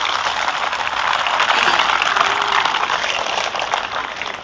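Loud, dense applause from a large audience welcoming a speaker's wife onto the stage at a talk in Bhuvaneswar, a steady wash of clapping filling the room.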